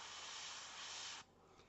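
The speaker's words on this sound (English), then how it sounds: "notice I'm spraying away from the shield" An airbrush sprays paint during a winter-scene portrait painting, giving a steady close hiss that cuts off sharply near the end, with a faint short puff after.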